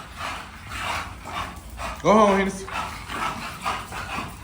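A small bulldog with kennel cough gives a short harmonic bark-whine near the middle, close and clear, amid a man's repeated spoken commands and other dog noise.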